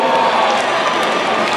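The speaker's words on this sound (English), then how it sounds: "don't clap for me" At a concert at UMass Lowell, the audience claps and cheers loudly, a dense, continuous roar of applause and shouting that fills the hall without a break.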